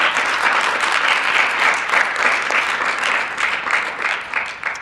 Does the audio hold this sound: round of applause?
yes